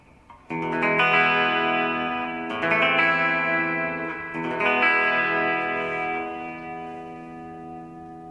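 Electric guitar chords through a Mr. Black reverb pedal into a Fender Tone Master Twin Reverb ring out three times, each swelling into a long, lush reverb tail that lingers and fades; no voices.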